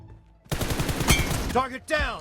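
A rapid automatic burst of gunfire from PUBG Mobile rattles out close and loud, with a voice cutting in right after it.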